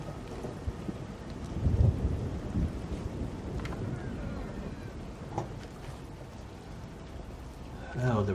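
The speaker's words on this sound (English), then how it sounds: "Oh, the rain started again." Steady rain with rolling thunder fills a video game scene, a loud thunder rumble swelling near the two-second mark and another building at the end, while a voice speaks faintly underneath.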